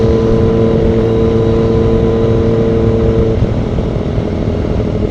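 A sports motorcycle engine hums loud and steady while riding, a constant drone with a tone that shifts slightly partway through.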